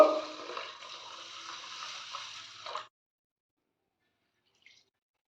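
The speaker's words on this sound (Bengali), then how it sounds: "চালটা আমি ধুয়ে নেব" Dehradun rice is swished and rubbed by hand in a bowl of water, a soft, close, continuous wet sloshing for a few seconds that stops abruptly, followed by near silence and a tiny drip.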